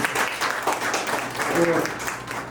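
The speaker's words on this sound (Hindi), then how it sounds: "सबको या जोरदार तालियां बजाइए।" Audience applause at a corporate event, the PRAGATI 2025 programme. The clapping is dense and fairly loud and runs for a couple of seconds, with some crowd murmur mixed in.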